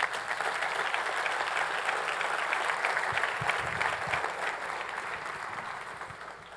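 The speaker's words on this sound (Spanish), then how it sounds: "le damos un aplauso al Señor" Congregation applause during a church service, a sustained wash of many hands clapping throughout, heard fairly close and evenly loud before tapering off at the end.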